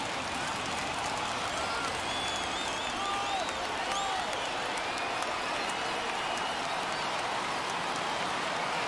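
A stadium crowd of over 30,000 in MLB The Show 21 roars and cheers steadily as fans rise to their feet at a Padres versus Giants game, a dense, sustained wash of noise with whistles and shouts rising through it.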